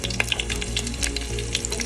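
Chopped green chilies sizzle and crackle in hot mutton fat, a loud, close, continuous frying hiss dotted with small pops.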